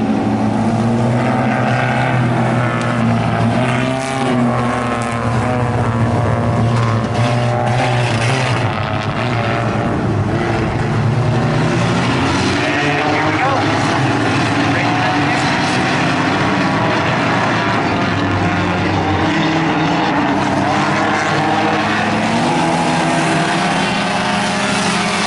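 Race cars at Birch Run Speedway run a 15-lap feature race, their engines roaring in a loud, continuous, shifting drone as they pass and circle the track, with no one speaking over them.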